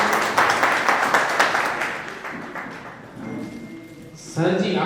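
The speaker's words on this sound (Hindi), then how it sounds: "आपका तो इसने संरक्षक के रूप में हम एक बार तालियां बजाइएगा।" Audience at a Hindu annual chariot festival ceremony in Rajnagar Extension, Ghaziabad, claps for an honoured guest, brisk rhythmic clapping that thins out midway before voices and fresh noise take over at the end.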